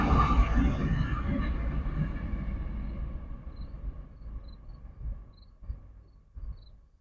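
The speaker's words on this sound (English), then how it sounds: "The train is going by in the midst of the chaos." A passing train makes a broad low rumble that gradually fades over several seconds, heard from a distance with faint insect chirping in the background.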